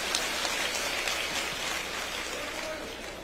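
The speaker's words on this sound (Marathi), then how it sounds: "जोरदार टाळ्या वाजवा त्यांच्यासाठी." A crowd applauds for MP Praniti Shinde at a political rally, a dense, even patter of clapping sustained for a few seconds.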